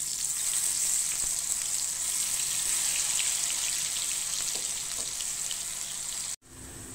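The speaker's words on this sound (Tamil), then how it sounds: "இப்போ எண்ணெய் காஞ்சிருச்சு, நம்ம மசாலா பரட்டி வச்ச இந்த சேனக்கிழங்கை பொரிச்சு எடுத்துக்கலாம்." Masala-coated elephant foot yam chips fry in hot oil with a steady, bright sizzle that holds for about six seconds before cutting off abruptly, then resumes faintly.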